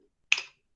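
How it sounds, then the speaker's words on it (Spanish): A single crisp finger snap, sharp and close, standing alone in otherwise near-silent surroundings during a classroom lecture. "Con mis dedos, chasquido."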